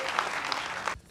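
An audience applauds poets at a political poetry gathering, a short, dense burst of clapping that fades out within about a second.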